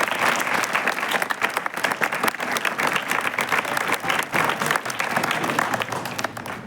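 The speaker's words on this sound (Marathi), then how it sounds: "आपण जोरदार टाळ्या वाजवूयात." A crowd gives sustained applause at a school reading-room naming ceremony, dense rhythmic clapping from many hands that swells and eases over several seconds with no talking.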